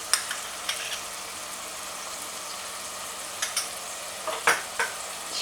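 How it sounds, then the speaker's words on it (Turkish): Ground meat with chopped garlic, pepper paste and tomato paste fries in a pan, a steady soft sizzle broken by a few light clinks and scrapes of stirring, close and moderately quiet, with no voices. "Şöyle karıştırıyorum."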